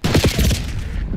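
A rapid burst of automatic gunfire from the video game Call of Duty: Black Ops 6 crackles loud and close, shots stacking into a dense rattle over about a second with no talking.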